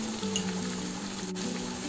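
Cumin and coriander powder frying in a pan for Ambur-style mutton biryani gives a steady, soft sizzle that stays even for the whole stretch, with no voices over it.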